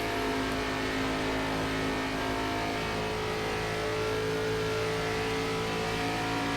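Race car engines in the iRacing video game drone and rev steadily through an ARCA Series stock car race at Las Vegas, a dense continuous engine roar with several cars close together.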